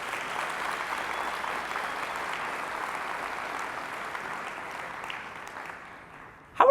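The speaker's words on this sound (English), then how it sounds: "Can we give a huge round of applause for the staff that put this on?" A crowd at an agent rally gives a round of applause for the event staff, steady, moderately loud clapping that gradually fades toward the end before a sudden louder burst.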